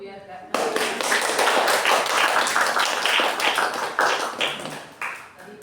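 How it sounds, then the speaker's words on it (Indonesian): Classroom audience of teachers and students clapping for a Grade 10 visual design group presentation, a sustained burst of applause starting abruptly after a brief pause and tapering off near the end, with some voices mixed in. "Tepuk tangan dulu"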